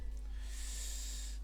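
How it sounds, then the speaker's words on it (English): A single congested sniff from someone with a bad cold, a short breathy nasal inhale close to the microphone, alone over a low steady hum. "apologies if I'm sniffing a lot"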